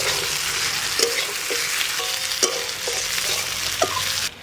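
Potatoes sauté in a pan with ground dried chillies, a steady close sizzle broken by a handful of sharp scraping stirs.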